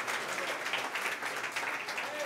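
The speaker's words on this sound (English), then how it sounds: "Give him a round of applause for real, man." Crowd applause at an a cappella rap session, a continuous wash of clapping and cheering at moderate level, with a voice talking through it.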